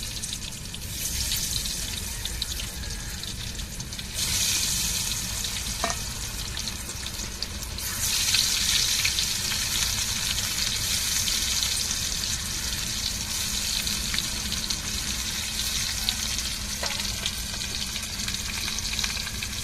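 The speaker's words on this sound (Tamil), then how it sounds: "மீனை தூக்கி அப்படியே ஒன்று ஒன்றா எண்ணெயில் போட்டு பொறிச்சு எடுத்துருவோம்" Fish coated in spice powder frying in hot oil, giving a steady, close sizzle and crackle that runs throughout, with brief bursts of louder spitting as pieces hit the oil.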